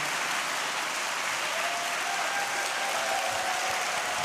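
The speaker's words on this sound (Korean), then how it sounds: "그 참된 희망을 주시는 주님께 영광의 박수 올려드리겠습니다." A church congregation claps steadily at a dawn prayer service, a full room of hands applauding without pause, close and loud.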